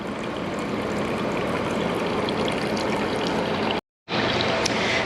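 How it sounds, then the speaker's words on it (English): An air stone in a small aquaponic fish tank sends up a steady, dense fizz of bubbling water, close and continuous, broken only by a brief cut near the end, with no voices. "Once the air stone is inside, you'll notice that there will be a bunch of bubbles coming from the stone."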